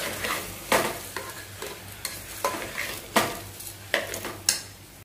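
Lentils tipped into a frying pan and stirred with a spoon against the metal, giving sharp scraping strokes every second or so over a low sizzle, close and alone without talk.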